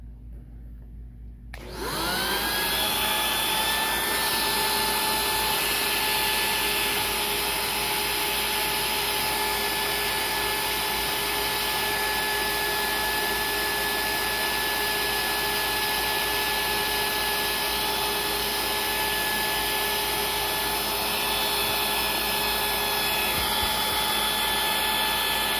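Beam 2900 central vacuum switched on and running at the end of the hose: a steady, loud whining roar with a high tonal hum that starts after about two seconds of quiet and holds constant throughout.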